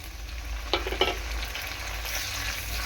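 Chopped tomato frying with onions in oil in a pan for a spicy tilapia curry with ginger and mustard paste, a steady sizzle with two brief clinks or stirs early on and a louder hiss building near the end.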